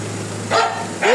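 Two sharp dog barks about half a second apart, fairly close, over a low steady hum.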